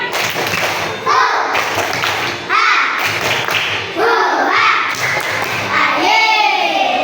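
A group of children performs a rhythmic spirit clap in a classroom, bursts of patterned clapping and thumps repeated in several rounds, with young voices chanting along between and over the claps.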